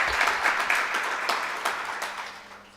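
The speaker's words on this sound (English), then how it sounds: "I think we should clap for these young people." Brief round of clapping from an audience at a national e-commerce stakeholder event, moderately dense and slightly distant, fading quickly over a few seconds.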